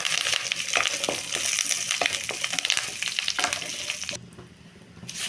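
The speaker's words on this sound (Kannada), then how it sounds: "ಕರಿಬೇವು ಕೂಡ ಸಣ್ಣೂರಿನಲ್ಲಿ ಒಂದು 5 ನಿಮಿಷ ನೀಟಾಗಿ ಈ ಥರ ಫ್ರೈ ಮಾಡ್ಕೋಬೇಕು." Curry leaves crackle and sizzle in hot oil in a pan, with close, busy popping and stirring scrapes that drop away abruptly near the end, leaving a quieter hiss.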